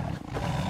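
A tiger's roar in a children's storybook reading, a short sustained growling roar, loud and close, with no speech over it.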